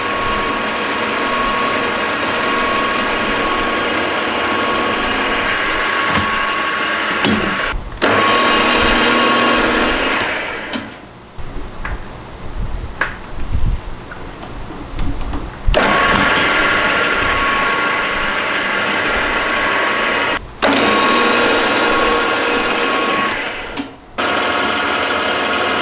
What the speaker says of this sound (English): Next thing I'm going to do is put holes in that piece that's in the mill to match these holes.